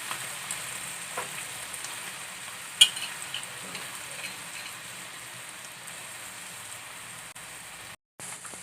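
Bread for a malai sandwich toasting in a pan on a low flame, a soft, even hiss of gentle sizzling that runs steadily throughout, with one sharp click partway through and a short dropout near the end.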